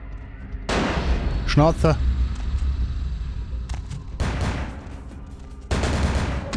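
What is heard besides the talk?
gunfire shooting at the player in Vampire: The Masquerade – Bloodlines (video game)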